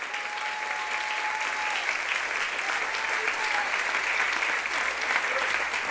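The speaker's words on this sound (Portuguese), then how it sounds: "Você pode aplaudir ao Senhor bem forte?" A church congregation at a Sunday celebration service claps loudly and steadily, a dense, sustained wave of applause filling the room from start to finish.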